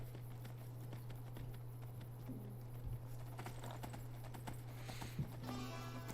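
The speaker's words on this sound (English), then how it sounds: "Feels good to ride a horse every now and then." Horse hooves clop at a steady walking pace while riding in the video game Skyrim, soft rhythmic steps over a constant low hum with a few louder thuds.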